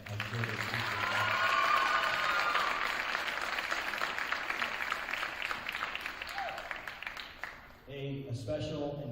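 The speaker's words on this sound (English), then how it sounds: "So please, if you could give them a round of applause, I'm sure they appreciate that." Audience at a high school winter sports awards ceremony claps in a round of applause that swells early and gradually thins, before a voice over a microphone picks up near the end.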